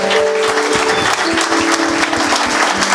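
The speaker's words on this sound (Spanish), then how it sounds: "Pero un aplauso más fuerte a Dios" Church congregation applauds praising God, brisk loud clapping with distinct individual hand claps throughout, with a faint tonal hum underneath.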